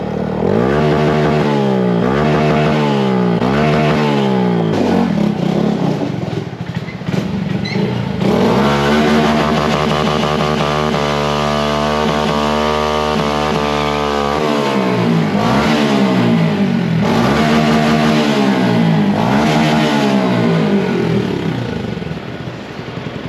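A 2022 Honda Grom motorcycle with a new exhaust revs hard and rides close by, repeated rising and falling engine sweeps with a long sustained high-rev stretch in the middle, loud and alone without talk.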